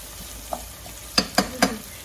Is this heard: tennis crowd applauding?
no